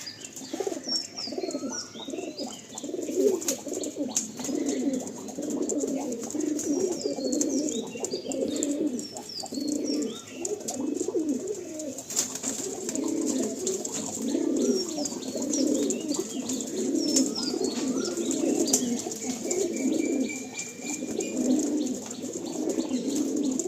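Pigeons in a loft keep up a dense, continuous throaty cooing, several birds overlapping close by, with a few faint chirps and brief wing flutters mixed in and no voices.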